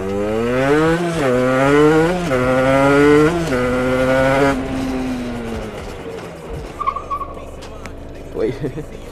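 Motorcycle engine with its exhaust revving hard through rising pitch sweeps under heavy acceleration, loud and close, then easing off into a lower drone with faint tire noise, as someone talks over it.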